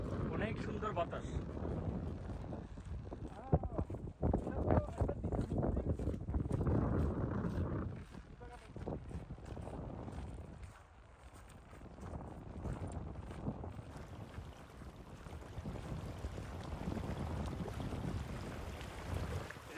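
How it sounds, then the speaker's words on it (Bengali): Gusty sea wind buffeting the microphone aboard a boat heading to St. Martin's coral island, rough rumbling roar rising and falling under frequent talk. "অনেক সুন্দর বাতাস।"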